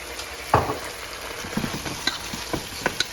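Soy sauce hitting a hot pan of chilli chicken sauce, giving a sharp sizzle followed by scattered crackles and stirring clatter, moderately close with no talking.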